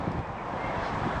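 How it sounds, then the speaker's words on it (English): Wind gusts outdoors in a container garden with potted onions, beans and flowers, making a close, low rumbling buffet against the microphone. The sound runs steadily and there are no voices. "It's a little bit windy today."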